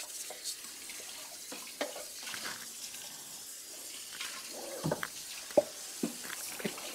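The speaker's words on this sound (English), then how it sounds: "Rinse this off." Juicer parts and strainers rinsed under running tap water: a faint, steady stream with scattered clinks and splashes of plastic pieces being handled in a sink.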